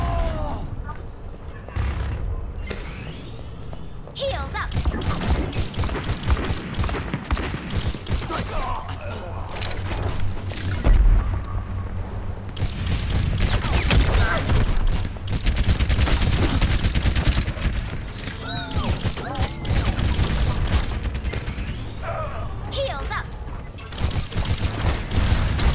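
Pistol shots and gunfire from D.Va in the Overwatch video game, a dense run of repeated shots with heavy booms and mech weapon bursts, with talk over most of it.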